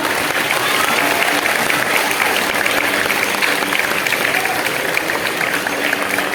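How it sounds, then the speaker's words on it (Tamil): Loud, dense applause from an audience at a school Pongal celebration, rewarding students after an energetic dance performance. The clapping holds steady throughout with a crowd murmur beneath it and no words spoken. "கொஞ்ச நேரத்துல இந்த அரங்கத்தையே அதிர வச்ச இந்த மாணவர்களுக்கு பெரிய கைத்தட்டலை கொடுங்கப்பா"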